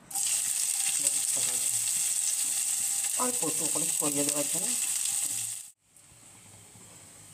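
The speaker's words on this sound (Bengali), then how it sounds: "এবার একটু পেঁয়াজের বরিস্তা করে নেব" Onions frying into birista for Hyderabadi biryani, a loud, steady close sizzle with a few metallic stirring clicks and a brief spoken remark partway, cutting off abruptly near the end.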